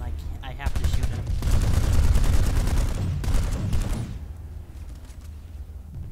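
Rapid gunfire in a shooter game aimed at an enemy engineer, a loud sustained rattling burst of shots for several seconds that fades out, with speech nearby.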